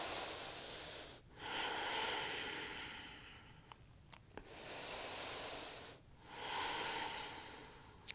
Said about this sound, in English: Keep coming back to slow, deep breaths.